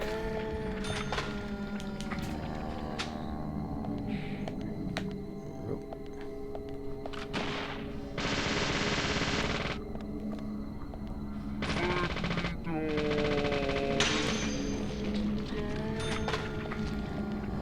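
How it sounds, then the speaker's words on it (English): Rapid bursts of submachine gun fire at a shooting range in Deadly Premonition, repeated volleys punctuated by target-hit chimes and announcer-like game tones. "Something cosmically satisfying about using the submachine gun."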